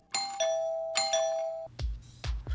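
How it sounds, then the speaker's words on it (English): A doorbell chimes twice with a clear two-tone ding-dong, each ring fading slowly, and two heavy thuds like knocks follow at the end. "You cannot ring my doorbell if you did not text ahead."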